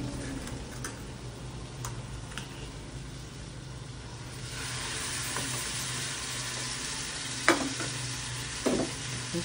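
Rib-eye beefsteak fries in a pan with a steady close sizzle that swells louder partway through, broken by a few sharp ticks and utensil clinks, no talking.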